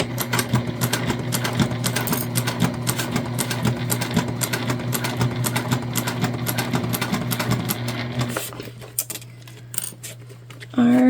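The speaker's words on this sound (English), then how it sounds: "I'm gonna make sure that we top stitch really nicely" A sewing machine top stitches a shoulder bag in a fast, even rattle of stitches, close and loud, slowing and stopping near the end before a short handling noise.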